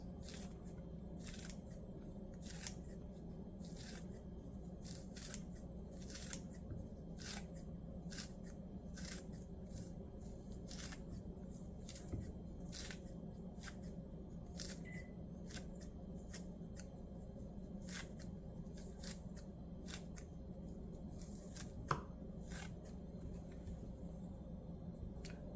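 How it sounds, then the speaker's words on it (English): A knife chopping green onion into small pieces on a cutting board, heard as a long series of quick, crisp taps at an uneven pace over a steady low background hum, fairly close and moderately quiet. "And then I'm going to cut my green onion into very small pieces."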